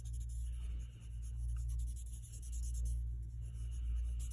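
A charcoal blending stump rubs lightly across paper while shading a value scale, making a soft, continuous scratchy hiss over a steady low hum.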